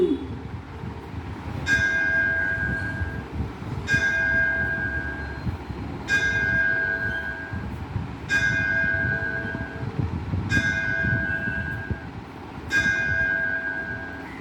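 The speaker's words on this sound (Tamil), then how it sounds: "அம்மன் திருக்கோயில் மணியோசை" A Hindu Amman temple bell in Mullaivasal village, Tiruvarur district, Tamil Nadu, struck at 6 a.m. at a slow, even pace, about six ringing strikes each a couple of seconds apart, over a low rumbling background.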